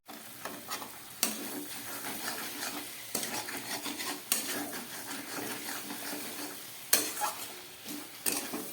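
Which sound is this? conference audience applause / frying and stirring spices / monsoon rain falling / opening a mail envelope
frying and stirring spices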